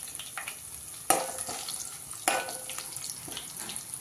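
Cumin and mustard seeds splutter in hot oil for a sambar tempering, a soft continuous sizzle broken by two sharp crackling bursts, close and quiet.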